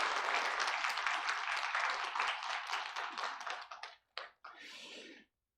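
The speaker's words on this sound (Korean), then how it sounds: "격려의 박수 한번 주세요" Church congregation during a Sunday worship service claps in encouragement, a brisk burst of many hands that thins out and stops, with a few last scattered claps at the end.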